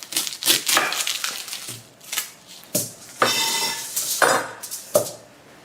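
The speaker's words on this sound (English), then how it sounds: "Okay, here's the garlic prep. Basically what I'm doing is I'm just cutting the top off." A knife slices the top off a garlic bulb during hot sauce prep, giving a series of crisp, close crunching cuts and knocks on a board in an irregular rhythm.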